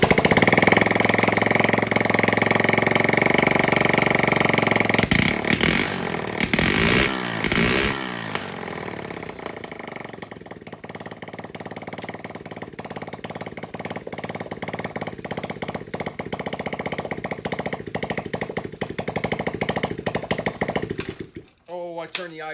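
A small Chinese clone engine with simple wiring runs loudly and steadily with a rough, buzzy putter, its pitch wavering slightly, then it sputters and dies near the end, its idle set too low.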